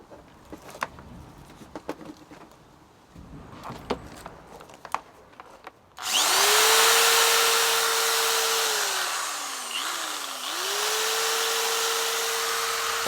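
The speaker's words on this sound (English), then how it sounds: "600 watt drill, fine." After a few quiet clicks and taps, a 600-watt power drill running from a Jackery Explorer 500 v2 portable power station whirs up loudly and runs steadily, briefly dipping in speed before spinning back up.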